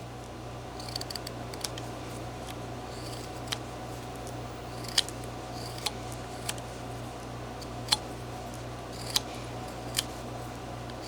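A knife makes push cuts shaping the head of a small figure whittled from a wood block, a series of sharp, quiet scraping clicks spaced about a second apart over a steady background hum.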